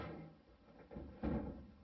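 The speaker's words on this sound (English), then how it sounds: "Open the door, throw it in, close the door" A home washing machine door swung open and shut again, soft thuds with a firmer bump as it closes, close by and moderately quiet, no talking.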